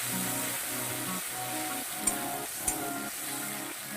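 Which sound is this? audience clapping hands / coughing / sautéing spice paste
sautéing spice paste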